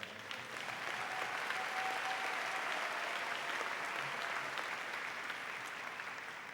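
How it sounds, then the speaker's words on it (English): A high school graduation crowd breaks into steady, dense applause, a continuous even roar of many hands clapping from start to finish at moderate distance. "let's give us all a round of applause for that"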